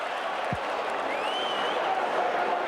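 A huge crowd of about 40,000 at Footy Park in Adelaide for a 1986 Australian Rules football State of Origin match, South Australia versus Victoria, sends up a broad steady roar that fills the whole moment.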